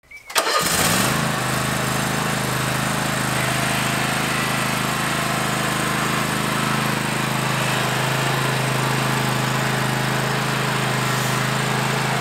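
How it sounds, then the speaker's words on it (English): A gas lawn mower starts up and then runs steadily while mowing a residential lawn, loud and close, with a continuous engine drone and no talking. "Can I mow your lawn?"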